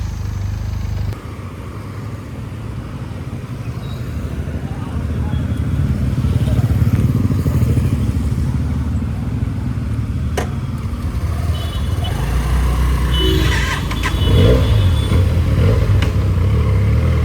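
A Benelli 300 motorcycle that had a drained battery runs steadily on the road, a low rumbling engine drone that swells and eases under wind noise, with a few clicks and a voice talking briefly.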